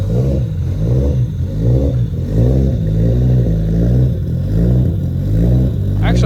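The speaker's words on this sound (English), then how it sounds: "This is the 5-cylinder." A five-cylinder car engine runs close and loud, its deep harmonic drone rising and falling through several revs, with no talk over it.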